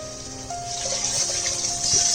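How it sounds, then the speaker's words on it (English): Water pours steadily into a pot, a continuous close splashing stream that grows slightly fuller toward the end. "I'm going to add 4 cups of water to this."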